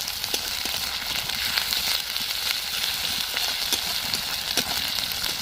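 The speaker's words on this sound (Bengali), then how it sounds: "পেঁয়াজ আর লঙ্কাটা ভালো করে ভাজা হয়ে গেছে" Ground onion and chili paste fry in hot oil for a Bengali rohu fish kofta curry, giving a steady, dense sizzle with faint crackles throughout and no talking.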